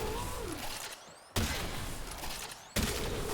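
The Rauta shotgun in the video game Warframe fires three loud, booming shots at an even pace, each blast followed by a short mechanical rattle.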